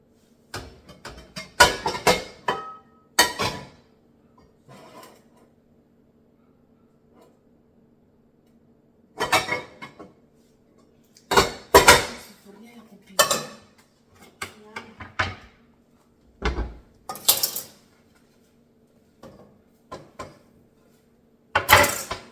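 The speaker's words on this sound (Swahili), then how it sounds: "Hapa ndio naweka masufuria." Metal cooking pots set down and clanking in a home kitchen, a series of sharp, bright clattering bursts in clusters separated by quiet gaps, with a faint steady hum underneath.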